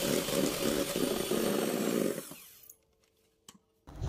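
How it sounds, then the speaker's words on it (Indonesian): An electric mixer beats cake batter for a chocolate roll sponge at its highest speed, a loud steady whirring drone that cuts off, leaving a few faint clicks and a brief knock. "ini saya akan mixer 5 menit menggunakan speed paling tinggi hingga dia itu putih kembang seperti ini"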